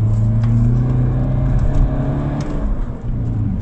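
A BMW E46 320d diesel at full throttle, heard from inside the car: a steady, loud engine drone with a low hum that holds its pitch, and no talking.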